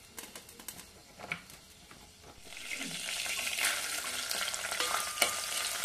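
Garlic sautéing in plenty of cooking oil for a Filipino gisa base, with scattered stirring clicks at first and then a steady, close sizzle that builds and holds, no talking.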